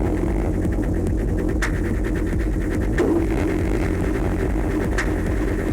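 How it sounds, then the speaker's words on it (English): A hypnotic modular synth techno loop drenched in long-tailed reverb, with a steady pulsing low throb, repeating rhythmic hits and a washy, smeared sustain filling the whole stretch. "I think that's a very long-tailed reverb."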